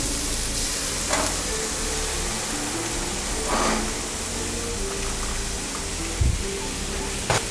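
Cream pours over vegetables that are starting to wilt in a hot pan, bringing a steady close sizzle and frying hiss, with a few brief stirring knocks and a faint voice beneath.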